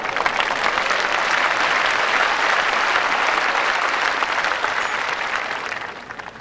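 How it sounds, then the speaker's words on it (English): Steady crowd applause at the side of a lawn bowls green during a world singles final, a dense wash of clapping that holds for several seconds before fading slightly at the end. "More applause there from the crowd at the side of the green"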